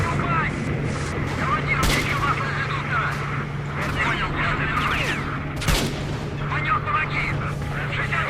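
Rapid gunfire and booming explosions crackle continuously in a S.T.A.L.K.E.R.: Shadow of Chernobyl battle, with sharp bursts over a steady background drone.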